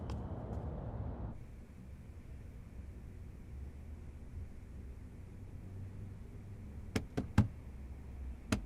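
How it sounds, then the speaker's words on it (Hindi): Knocking on a door comes as a few sharp raps near the end, close and distinct, over a low rumbling room background. "चिनुआ, जल्दी दरवाजा खोलो, एक बुरी खबर है।"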